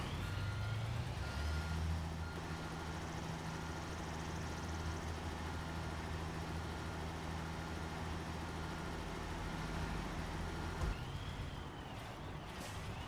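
A truck's reversing alarm beeps steadily and continuously for the whole stretch in Construction Simulator, a repeating tonal signal over a low, rumbling diesel engine.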